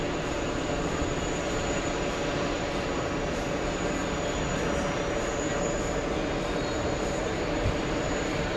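A JetBlue airliner arriving at JFK airport, a steady broadband engine roar holding level and fairly loud throughout with a faint high whine on top.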